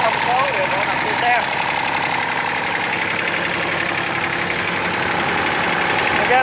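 A Japanese-built Kubota L2601 26 hp tractor with a three-cylinder engine idles in a steady, even drone throughout, close and loud with no pauses.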